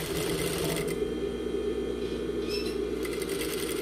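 An industrial straight-stitch sewing machine stitches a trouser fly piece, a steady close mechanical hum with rapid needle clatter that pauses briefly near the end.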